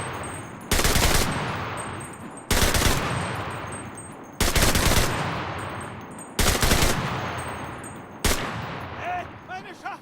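A mounted machine gun firing in loud, close bursts, about five sustained volleys each lasting a second or more, separated by brief gaps with ringing decay and some background voices.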